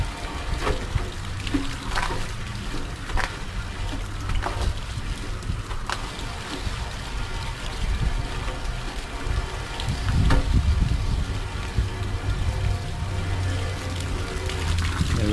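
Water runs steadily from a water-fed pole during window cleaning, a continuous splashing, gushing wash with occasional louder surges, close and outdoors, with no talk.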